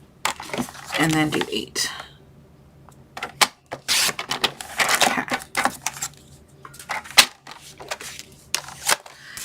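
Paper being cut for an Easter bunny peeps craft box, heard as a run of sharp, crisp snips and clicks interspersed with a person talking nearby.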